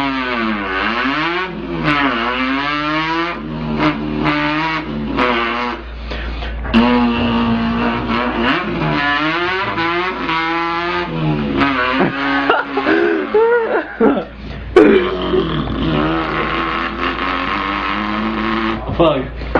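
A voice imitating a revving car engine, with long rising and falling vocal vroom sweeps and gear-change-like pitch shifts, loud and close, continuing for the whole stretch.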